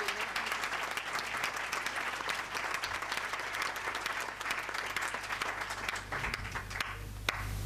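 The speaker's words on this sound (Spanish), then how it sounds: "Un aplauso especialmente en esta" Applause from an audience at an honorary doctorate ceremony, steady and sustained, heard from a distance in a large hall, with a low hum beneath that thins out toward the end.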